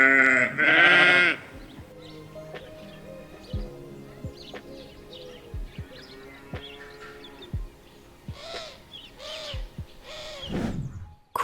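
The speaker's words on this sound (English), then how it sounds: "Sheep." Sheep bleating at a farm, with a loud wavering bleat at the start, softer calls and scattered animal noises through the middle, and a few more bleats toward the end.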